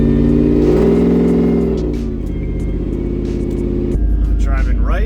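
Supercharged Ford SVT Lightning pickup truck engine while driving, giving a loud, steady droning rumble that eases slightly partway through, with a brief voice near the end.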